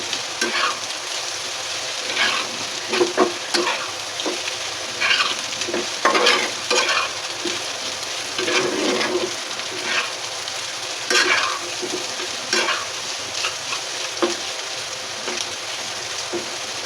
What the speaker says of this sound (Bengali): আমাদের আলু ভাজা হয়ে গেছে